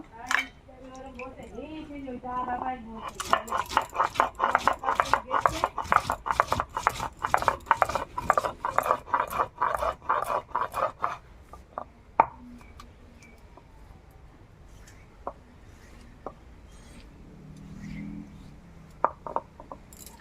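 Garam masala spices ground by hand give a fast run of rhythmic knocking and grinding strokes for about eight seconds. Slower, sparse taps follow, and a voice is heard in the background.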